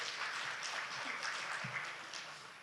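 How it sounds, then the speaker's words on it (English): An audience claps at a closing programme presentation, a dense, even patter of many hands that holds steady and then tapers slightly, heard from a distance and fairly faint. "can I have a big clap for me before my starting?"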